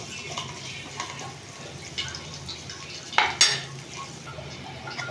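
Sliced onions being lightly fried until light brown in a pan for onion chutney, with a soft sizzle under scraping stirs and a couple of sharper utensil clinks against the pan.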